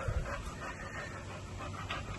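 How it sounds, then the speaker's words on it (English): A dog pants close by in quick, steady breaths with a faint whimpery edge, heard alone in a quiet room. "what, why are you panting?"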